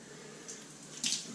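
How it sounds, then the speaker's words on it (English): Tap water runs steadily into a bathroom sink during a shave, a soft continuous trickle close by with a brief louder splash near the end. "I need a little bit more water running."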